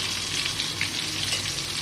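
Fish pieces sizzle in a shallow layer of oil in a pan, a steady bright crackle held close and loud the whole way through, with no talking.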